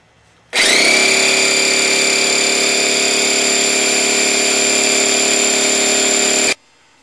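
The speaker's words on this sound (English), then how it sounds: "now we're going to uh, inflate the tire and seat the beads" A BMW F650 motorcycle tire being inflated to seat its beads: a loud, steady hissing whine starts abruptly, holds evenly for about six seconds close by, then cuts off sharply.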